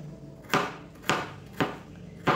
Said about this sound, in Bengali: বীজগুলো ফেলে দিয়ে এগুলোকে একটু ছোট ছোট টুকরো করে নেব।